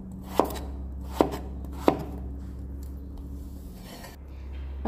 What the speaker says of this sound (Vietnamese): xắt ra hình từng lát